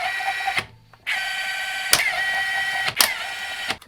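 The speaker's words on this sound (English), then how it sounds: "I'm going to set my impact to hand tight." An impact wrench, set to hand tight, runs a lug nut onto a third-gen Runner's wheel stud during a brake job: a steady, close mechanical whine with a short pause and sharp clicks.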